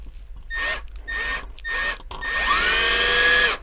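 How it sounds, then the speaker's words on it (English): A small 1/8 inch drill bit bores into a metal shaft of a Force 120 hp outboard lower unit in three short bursts, then one longer steady whine with a high pitched squeal, close by. "we're going to start off with an 1/8 inch drill bit."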